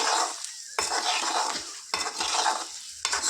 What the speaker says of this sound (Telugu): ఇది ఇలా ఫ్రై చేసుకుందాం చిన్నగా